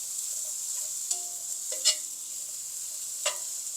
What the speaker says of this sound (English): We're going to let this cook for about a minute because I don't like the onions to be too soft.